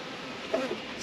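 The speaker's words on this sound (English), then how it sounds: "Woo, look at all them bees." Honey bees from a caught swarm at an inspected hive buzz faintly in a brief burst, a soft drone with a slight rise in the middle.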